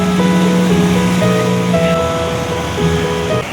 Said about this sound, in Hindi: यहाँ वेव भी बहुत तेज आ रही है।